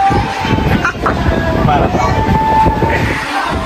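The Venkatadri Express passenger train rolls with a loud, continuous rumble and clatter, with a sustained horn-like tone running through it.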